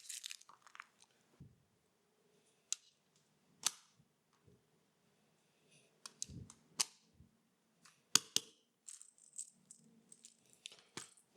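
Metal .308 Win cartridges click and clack into a Mossberg MVP Patrol rifle magazine in a series of sharp, close, irregular snaps with short pauses between them.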